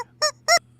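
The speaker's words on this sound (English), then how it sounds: "here's a quacking duck." Quacking duck sound effect played from a gadget, two short nasal squawks in quick succession over a low electrical hum.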